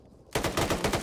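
Rapid automatic gunfire bursts out loud and close in the ARMA 3 military shooter, a fast rattling string of shots after a moment of near silence.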